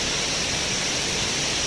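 A waterfall at Neidong National Forest Recreation Area makes a constant, loud, dense rush of falling water with an even roar and no breaks or changes.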